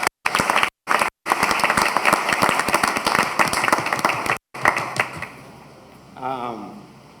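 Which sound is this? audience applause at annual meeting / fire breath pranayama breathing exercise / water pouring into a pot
audience applause at annual meeting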